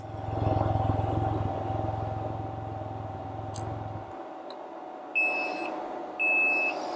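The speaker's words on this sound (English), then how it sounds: "Now, it's going to beep until I put it in park." A 2022 Can-Am Ryker Sport three-wheeler's engine idles and then cuts out, after which the vehicle emits two short, clear electronic beeps about a second apart while a fan keeps running faintly.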